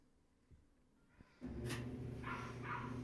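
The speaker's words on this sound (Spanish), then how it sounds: "Disculpen por el sonido y ladrido de los perros" Dogs bark a couple of times in the distance after a running Frigidaire clothes dryer starts up with a steady loud hum. A few faint knocks come before the machine starts.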